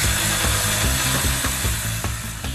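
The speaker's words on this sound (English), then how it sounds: "Jem's getting stuck into a marathon of cutting and welding" Metal being cut for a frame build gives a loud, harsh, continuous power-tool grind with a rhythmic pulsing drone and rasping strokes, close and dominant with no talk.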